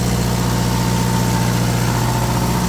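Onan 12.0 DJC diesel generator running steadily under load, a loud, continuous engine hum with a constant low drone and no pauses, heard alone without talk.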